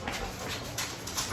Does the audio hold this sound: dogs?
yes